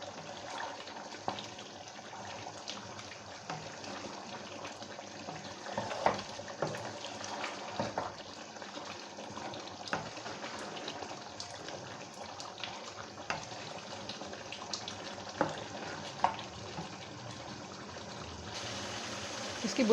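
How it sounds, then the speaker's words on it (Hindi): Mutton karahi simmering in a pan over a medium flame, giving a steady, continuous sizzle and bubbling with small crackles throughout, close and moderately loud with no talking. "इसको दरमियानी आग पर पकते हुए 15 मिनट हो चुके हैं।"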